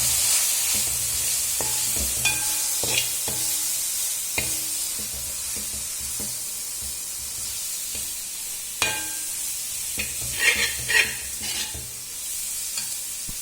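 Garam masala, chili powder and turmeric sautéing in oil for a chicken curry, with a steady soft sizzle under repeated scraping and clanking of a spoon stirring the pan.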